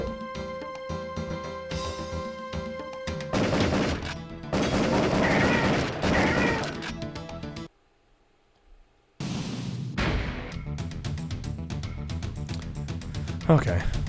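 Gunfire in the PS1 video game Area 51: dense bursts of game shots and crashing impacts over busy game music and effects, with a speaking voice running through most of it and a short near-silent gap midway.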